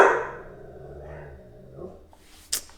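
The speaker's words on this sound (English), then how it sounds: "If you hear my dog barking in the background" A pet dog barking indoors in the background: a loud bark at the start fading into low whimpering sounds, then a sharp brief yelp near the end, with no talk.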